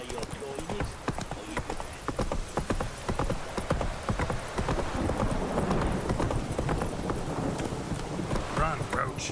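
A horse gallops across the ground in The Witcher 3: Wild Hunt with a fast, continuous clip-clop of hooves, close and prominent, with faint wind and a brief whinny.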